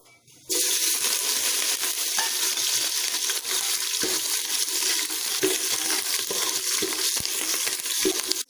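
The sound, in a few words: green chillies sautéing in oil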